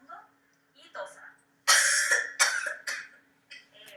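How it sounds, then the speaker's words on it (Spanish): Patient's coughs during an assisted cough maneuver with chest compression and stabilization: a couple of short, forceful bursts in the middle, among a clinician's nearby talk. "Vamos a hacer la maniobra de tos asistida"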